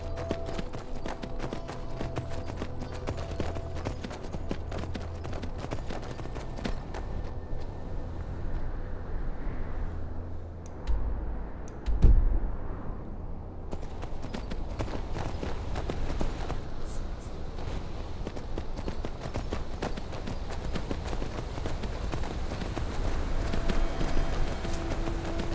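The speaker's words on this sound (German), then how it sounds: "Ja, heute mal mit Pferd unterwegs." A horse's hooves clip-clop steadily over ground in the video game Skyrim, a continuous trotting rhythm under ambient game sound, with a brief thud around the middle.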